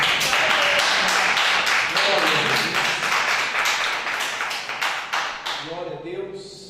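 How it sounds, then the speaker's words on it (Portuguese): A church congregation claps in a steady, fast rhythm of sharp strokes, with voices rising over it before the clapping thins and fades toward the end. "As palmas que louvem a Deus."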